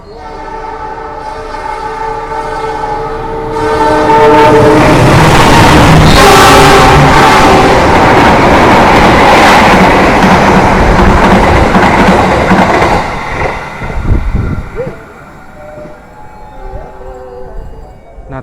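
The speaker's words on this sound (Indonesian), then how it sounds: "kereta api Argo Sindoro sudah melintas langsung di stasiun Pemalang" The Argo Sindoro passenger train passes straight through Pemalang station at speed, its horn sounding repeatedly as the roar of wheels and wagons builds loud and close, then fades as it runs past.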